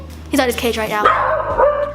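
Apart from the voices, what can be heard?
dog barking in the background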